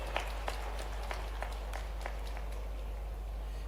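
An audience at a school building inauguration claps, scattered sharp claps over a steady low hum from a sound system, sparse and moderately distant.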